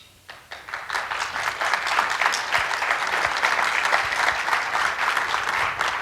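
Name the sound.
audience applause at FCC Chairman's speech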